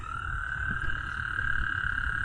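A small toad croaks in one steady, continuous trill outdoors on a Dallas walk, loud and close, with a low rumble of background noise beneath it.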